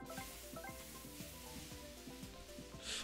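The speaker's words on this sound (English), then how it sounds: "Alright, sizzling." A Super Mario Party minigame plays a quiet, continuous sizzling hiss under bright plinking game music with a regular rhythm. No voices are heard.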